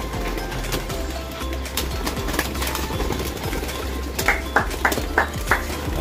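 Several pigeons flutter and shuffle amid background noise, with a short run of soft repeated cooing calls near the end, like pigeons in a loft.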